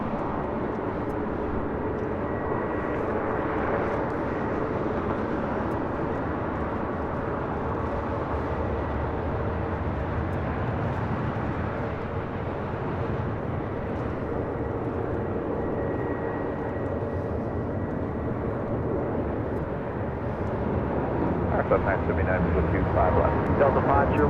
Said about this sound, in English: United Airlines Flight 801. It's a 787-9 Dreamliner, already rolling down,